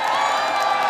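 A large BlizzCon crowd cheers and whoops for the Hearthstone card Crackling Doom, a sustained roar of many voices filling a big hall.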